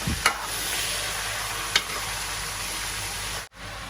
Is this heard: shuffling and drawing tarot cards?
no